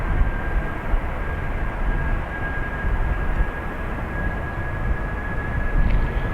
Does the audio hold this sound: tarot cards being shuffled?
no